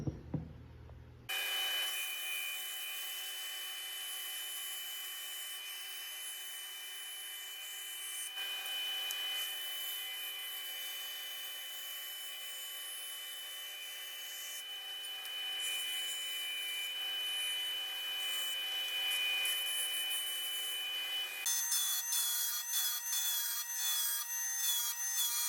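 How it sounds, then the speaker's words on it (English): A bandsaw cuts steadily through a wooden headless guitar blank, a continuous loud whining rasp with a brief change in tone partway, then a harsher, more ragged grind near the end of the cut. "I'm gonna head over to the bandsaw now, cut this out"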